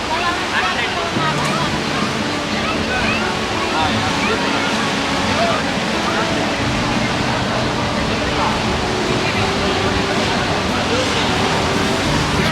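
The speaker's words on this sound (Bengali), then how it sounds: "বিশাল ঢেউ।" Large sea waves breaking on New Digha beach on a rainy, windy day, a steady loud roar of surf with wind buffeting throughout and no pause.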